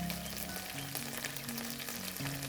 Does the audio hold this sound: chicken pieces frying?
yes